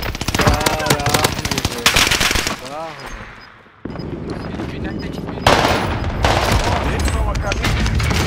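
Rapid bursts of Armaguerra 43 submachine gun fire in Warzone, loud and continuous automatic shots with game explosions and effects, while players talk over the action.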